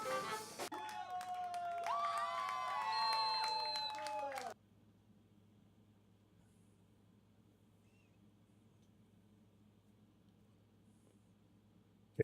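Live concert crowd cheering and shouting from a recording, a dense roar with whistles and yells that cuts off abruptly, leaving faint low hum and near-silence.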